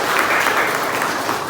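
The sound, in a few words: audience applause for two people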